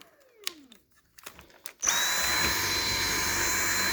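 A few faint clicks and handling noises, then a Dyson V7 Animal+ cordless stick vacuum switches on at low speed and settles into a steady, fairly quiet motor whine with airflow hiss.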